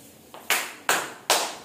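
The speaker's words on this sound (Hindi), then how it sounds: "अब ध्यान से पहले हमारी तालियां देखना" Three sharp, loud hand claps in an even rhythm, close by, made for a classroom counting activity, with a faint softer tap just before them.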